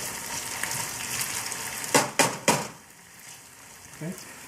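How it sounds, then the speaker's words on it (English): Potatoes sizzle steadily as they fry in a very hot pan, a continuous bright hiss with a few louder clattering stirs or scrapes partway through, heard close up. "we're just going to let this sit and let that kind of fry for a little bit"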